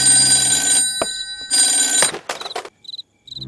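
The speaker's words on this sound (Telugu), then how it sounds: "ఫోన్ చేస్తున్నారు కదా" A telephone rings in a Telugu thriller movie scene, loud continuous ringing bursts broken by short gaps, then fainter repeated double trills near the end.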